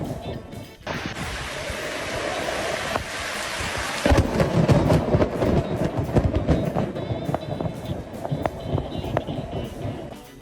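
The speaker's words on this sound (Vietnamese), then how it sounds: "Câu cá trong lúc trời mưa và sấm sét" Thunder rumbles through a heavy rainstorm, with a loud crack around the fourth second followed by continuous broadband rain noise and low rolling energy, no voices.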